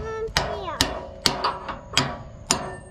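Hammer blows on a part of a Ford truck rear axle during a 4x4 axle swap, six sharp metallic strikes at a steady beat, close and loud, with a voice murmuring in the background.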